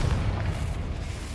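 A fiery spell effect from a video game, a heavy low rumbling boom that swells at once and holds steady through the whole stretch with no voice over it.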